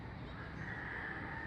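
A white parrot-like bird calls noisily from a tree, its harsh, raspy squawking running steadily and fairly loud for the whole moment with no talk over it.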